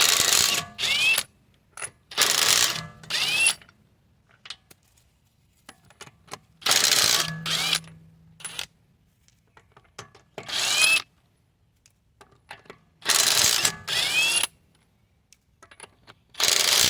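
A power ratchet loosens a wheel on a 7th-generation Nissan Maxima, whirring in short, loud, close bursts of one to two seconds separated by silent pauses.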